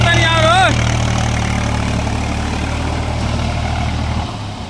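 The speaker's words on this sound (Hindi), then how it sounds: "दोस्तों देख लीजिए कितना ज़ोरदार बारिश हो रहा है और इसी बारिश में हम बाइक चला रहे हैं।" Motorbike ridden through heavy rain near farm fields, its steady engine drone loud and close under a broad wash of rain noise; a short whistle-like tone rises early, and the engine note drops near the end.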